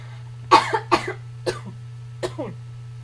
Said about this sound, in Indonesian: sebentar, saya mau batuk dulu